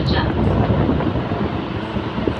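A train at Kharagpur railway station gives off a loud, steady low rumble, close by, with some wind buffeting the microphone.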